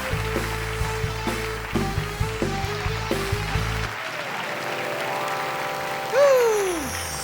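Audience at a stand-up comedy show, Komika Vaganza, clapping as a broad, steady wash of applause after a short stretch of musical stings, with a rising whistle-like sweep near the end.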